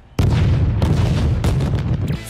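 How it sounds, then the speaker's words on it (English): A bomb explodes in an anime-style school sports battle, a sudden loud boom followed by a rumbling roar with further blasts, close and dominant with no talk. "Just fucking run as fast as you can before the bomb blows up?"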